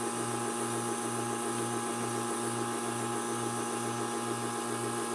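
A dental vacuum forming machine runs with a steady, loud mechanical hum and a regular pulsing throb, holding the same level from start to finish with no voices.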